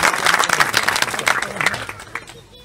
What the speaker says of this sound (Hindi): एक बार तालियों से स्वागत हमारी बाबा कैलाशी जी का।